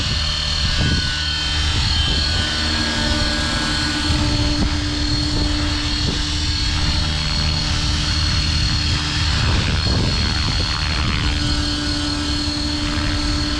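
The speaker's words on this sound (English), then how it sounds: "Well, what a smooth helicopter." An Align T-Rex 550X RC helicopter flying in stunt mode, its rotor and motor producing a loud, steady whine and whirring drone that stays continuous and close throughout with slight pitch shifts.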